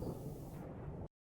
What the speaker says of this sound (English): Here's storm.